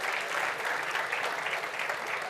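An audience at a live media conference gives a round of applause, a steady, even patter of many hands clapping throughout, with no voices on top.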